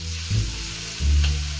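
Garlic, ginger, lemongrass and tomato sautéing in a pan for Thai-style three-flavour siakap, a loud steady sizzle close by, broken by two low scraping stirs of the spatula, with no talk.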